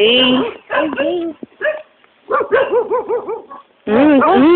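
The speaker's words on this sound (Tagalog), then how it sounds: "At may asong paparating. Ayan, may tumatahol na." Several dogs bark and yip in quick bursts, loud and close, with pauses between volleys.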